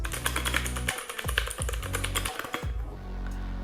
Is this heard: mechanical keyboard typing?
yes